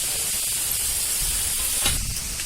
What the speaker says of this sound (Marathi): आपण आता या मिरच्या भाजून घेऊया